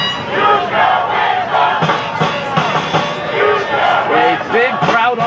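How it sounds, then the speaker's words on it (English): A big crowd of soccer fans, roughly 500, at the Ontario Soccer Centre Stadium during a men's championship final, shouting and cheering in a loud, continuous roar with rising chants. "A big crowd on hand for tonight's match."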